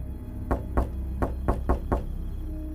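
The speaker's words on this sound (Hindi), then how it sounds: "फिर दूसरी दस्तक हुई।" A second series of knocks on a window, six distinct raps in an uneven rhythm, close and clear over a constant low hum, with no one speaking.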